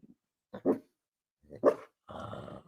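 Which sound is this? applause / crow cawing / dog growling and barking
dog growling and barking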